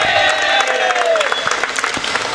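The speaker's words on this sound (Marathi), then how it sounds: "एकदा जोरदार टाळ्या संकेतसाठी" Loud, steady audience applause with some cheering at an outdoor cricket league prize distribution ceremony, honouring the best batsman, a dense crowd clapping continuously from start to finish.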